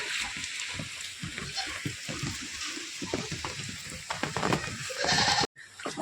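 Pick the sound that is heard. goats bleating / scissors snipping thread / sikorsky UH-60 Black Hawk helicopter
goats bleating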